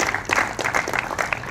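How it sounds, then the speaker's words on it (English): A crowd at a downtown trolley ribbon-cutting ceremony gives the Chamber of Commerce a round of applause, a brisk burst of clapping heard at moderate distance. "give them a round of applause"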